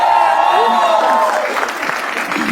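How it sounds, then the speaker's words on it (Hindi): A live comedy show audience breaks into applause as the show opens, a dense wash of clapping that starts loud and fades slightly, with voices mixed in. "तो शुरू करते हैं तालियों के साथ।"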